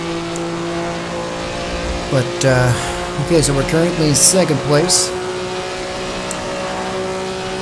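A Maserati 250F race car engine in the Assetto Corsa racing game, driven at Monza in a 1966 setting, drones loudly and steadily throughout with a sustained harmonic tone while someone talks over it.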